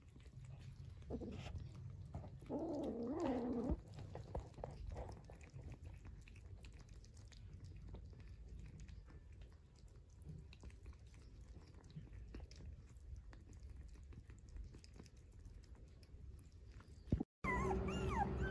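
A small white rescued stray puppy eats noisily, giving faint, close, irregular chewing and lapping sounds over a low background rumble, with a brief loud knock near the end.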